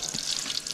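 Water runs from a tap into a sink during washing, a steady close splashing stream lasting the whole short moment with no talking over it.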